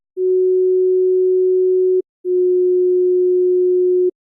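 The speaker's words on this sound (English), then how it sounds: "Here, you can hear the difference between two tones that are 1/3 of a half step apart." Two steady pure sine tones a third of a half step apart, each sustained about two seconds with a brief gap between, clean and loud with no other sound.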